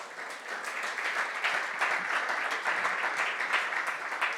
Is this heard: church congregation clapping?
yes